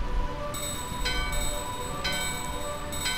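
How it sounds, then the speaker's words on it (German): A bell rings in the video game Final Fantasy IX at Burmecia, with several bright metallic strikes about a second apart over a low ambient drone. "Die gefundene Glocke läuten."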